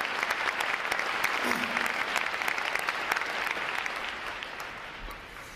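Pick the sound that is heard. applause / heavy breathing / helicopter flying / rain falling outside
applause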